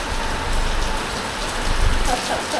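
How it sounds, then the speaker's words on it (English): Heavy rain pouring down steadily, a dense close hiss of drops on surfaces with a few louder splashes and low rumbles, continuous throughout. "it's pissing down with rain, which is not in our plan"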